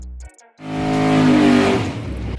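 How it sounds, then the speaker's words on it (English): A 1965 Ford Mustang coupe's 427 small-block Ford stroker engine roars up loudly after a brief quiet moment, then holds a steady, rumbling run. "Well, Roy, here's your beautiful 427 small block Ford. Got done running, everything went great."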